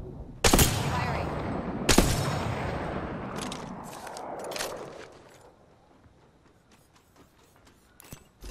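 Gunfire in Apex Legends: two sharp, loud shots open the sequence, followed by a burst of rapid fire that fades into scattered fainter shots and a final crack near the end.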